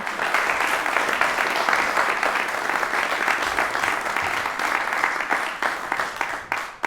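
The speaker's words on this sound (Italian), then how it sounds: "E direi un altro grande applauso per questi due maestri" Sustained audience applause in a theatre after a piano and violin matinée performance, many hands clapping densely and evenly, fading slightly toward the end.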